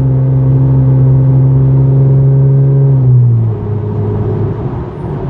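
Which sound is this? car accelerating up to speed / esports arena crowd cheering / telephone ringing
car accelerating up to speed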